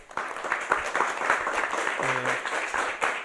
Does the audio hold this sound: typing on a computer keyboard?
no